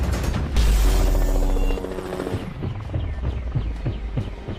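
Low, throbbing rotor drone from an LCH light combat helicopter in flight, loud at first and then easing into a rhythmic thudding of blades that carries on to the end.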